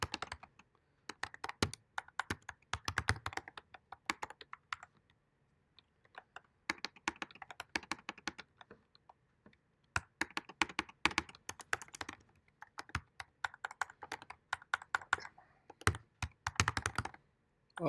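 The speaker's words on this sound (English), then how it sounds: "I do hate this keyboard." Someone types on a laptop keyboard during a programming class, with close, crisp clicking in fast bursts separated by short pauses, with no talk.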